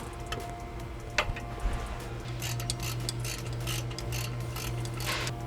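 A 19 mm ratcheting wrench works a bolt on the traction arm during a Nissan 370Z brake install, giving quiet, quick clicking bursts against a faint background hum.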